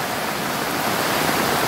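Floodwater gushes from a culvert during incoming bad weather, a loud, steady, close roar of rushing water with no voices.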